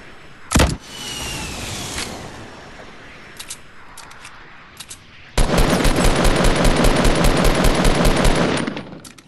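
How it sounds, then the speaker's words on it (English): Gunfire in the Fortnite video game: a sharp early shot and a few scattered pops, then a dense, sustained burst of rapid automatic fire lasting several seconds, loud and close. "All right, I'm gonna start shooting."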